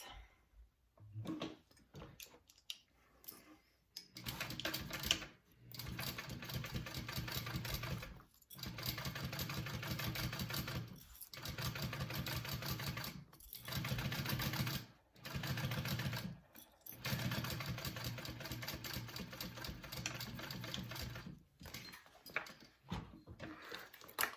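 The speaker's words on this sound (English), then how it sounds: "so sew this top closed" Sewing machine stitching the top of a fabric game bag closed, running in several steady bursts of close, loud motor whir separated by short pauses.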